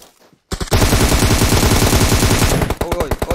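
Rapid automatic gunfire in PUBG Mobile, a dense burst of loud close shots running for about two seconds after a brief quiet start, then thinning into scattered single shots.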